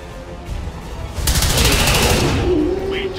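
Rapid automatic gunfire from the XCOM 2 video game, a loud sustained burst of dense crackling shots that swells and carries on for a couple of seconds over steady game background noise.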